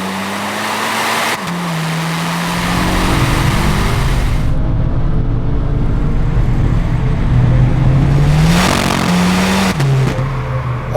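Tuned rear-wheel-drive BMW 330i 2.0L turbo engine revving loudly and close, the pitch rising and falling through repeated blips with a roaring exhaust note throughout, no talk.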